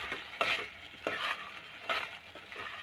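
Mutton curry with coconut powder is stirred in a pan. Several quiet scraping strokes repeat over a soft sizzle, close and without talk.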